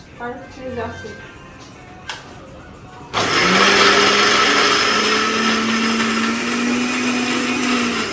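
A kitchen blender starts abruptly and grinds loudly with a steady motor whine for several seconds, following quieter household chatter and background voices.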